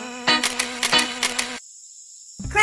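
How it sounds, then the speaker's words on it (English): Buzzing insect sound for a grasshopper, from a toy-based lesson on colors and insect names, a loud close buzz running steadily for over a second before cutting off. "Green, grasshopper."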